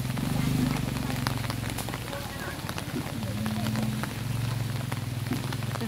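Steady rain falls on a garden with plants and ducks, a continuous close patter that runs under quiet speech throughout.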